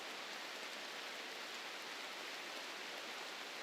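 Steady rain falls in the colony-sim game Rimworld, a dense, even hiss of broadband noise holding at constant level throughout with no voices.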